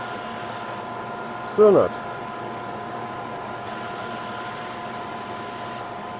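A spray gun lays a fine coat of Clean Armor coating in two hissing bursts, one short and one longer, with a brief spoken remark between them.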